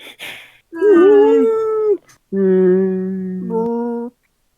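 A voice mimics eerie cosmic whale calls in two long, sliding, wavering moans with a short gap, loud and close, with no other sound.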